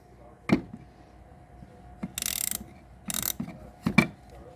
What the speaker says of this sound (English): It's got a ratcheting thing on the back here.